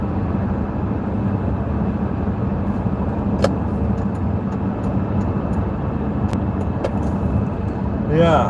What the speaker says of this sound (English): car's running great